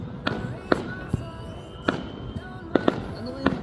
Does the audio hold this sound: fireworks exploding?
yes